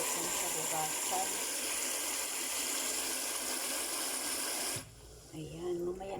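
Tap water gushes loudly and steadily to soak something before washing, then cuts off near the end, leaving a quiet room with faint sounds.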